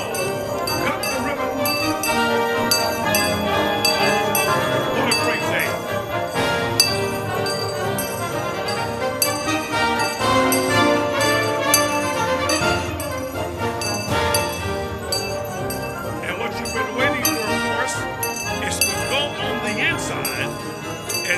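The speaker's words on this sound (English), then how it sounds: "please raise the bells found under your seats and ring them for all to hear" Many small hand bells jingle and ring together in a dense, continuous clatter at a school opening ceremony, loud and close, with some voices mixed in.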